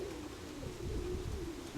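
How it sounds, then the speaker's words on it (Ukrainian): A grey-spotted pigeon coos in low, rolling murmurs, close by and fairly soft, continuing steadily with no other sounds on top. "Цей вже не ганяється, це 34-й голуб. Це сивомурий."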